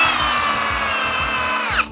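A Ridgid high-torque hammer drill drives a 6 inch timber lock screw into wood: a loud, steady motor whine over a low, regular thumping pulse that cuts off abruptly near the end.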